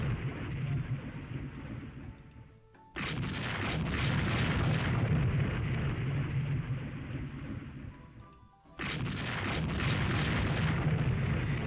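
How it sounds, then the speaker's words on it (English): Torpedo hits exploding against a warship in the naval strategy game Rule the Waves 3, heavy booming blasts that roar on for seconds, cut off briefly, then erupt again, loud and rumbling. "She's taking torpedoes."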